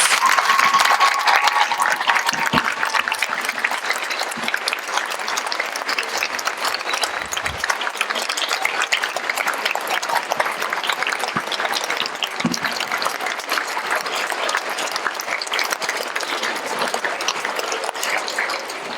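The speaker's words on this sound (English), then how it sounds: "So let's give him a big round of applause." Elementary school students applaud loudly in a school gathering welcoming astronaut Robert Crippen, a dense, steady roar of many hands clapping that holds for about nineteen seconds with no break.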